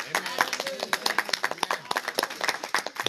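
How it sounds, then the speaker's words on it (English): A church congregation claps in irregular bursts, a smaller group with distinct individual claps, fairly close and moderately loud, with voices mixed in. "Clap for that."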